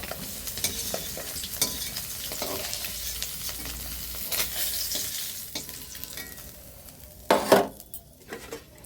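Tengra fish sizzle and crackle steadily in a hot pan, with stirring scrapes and a few sharp clinks of a utensil against metal near the end; no one speaks.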